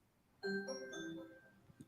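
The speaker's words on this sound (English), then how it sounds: "Someone is at the doorbell." A two-tone doorbell chime rings once indoors, a soft pair of clear ringing notes that fade out over about a second, with no talk.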